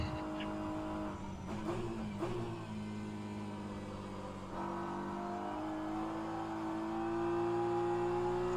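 A BMW P1 race car engine in rFactor 2 at Monza drones steadily at high revs, with pitch shifting through gear changes and a brief dip before rising again, continuous and close with no talk.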